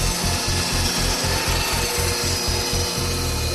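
A woodworking saw cuts through wood with a loud, continuous grinding roar and rapid rhythmic rasping strokes, close and harsh throughout.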